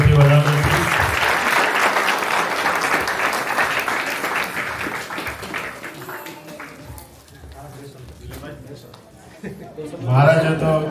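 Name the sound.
applause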